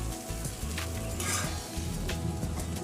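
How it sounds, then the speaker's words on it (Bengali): Egg and prawn chowmein fries in a pan, stirred vigorously with a dense, loud hiss and continuous clattering of utensil against metal, close up and without talking. "আমি এটা ভালো করে মিশিয়ে নিচ্ছি।"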